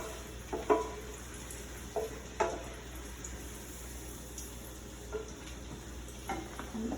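Stuffing mixture with leeks and ground beef sausage being stirred into a pan of sizzling beef, a soft steady sizzle with several scraping spoon strokes spaced through it, close but quiet.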